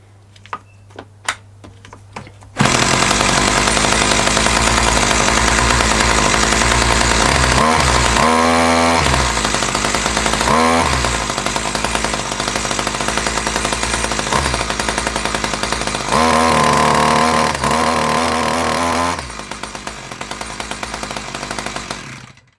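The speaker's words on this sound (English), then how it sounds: "Let's start her up, give her a rev." A 1982 Dolmar 100 chainsaw gets a few sharp pulls before roaring to life, then runs loudly and continuously with several rising and falling revs before cutting off abruptly at the end.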